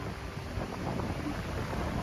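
Strong wind gusting off the ocean at Ao Manao Beach as the tide goes out, a steady broadband roar with low rumbling buffets against the microphone and no voices.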